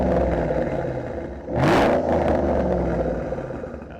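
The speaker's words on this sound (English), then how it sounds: "rev the engine so I can catch a little bit of the rumble here" A Ford Mustang Shelby GT500 KR idles, then its engine revs once in a short, loud surge before settling back to a low rumble.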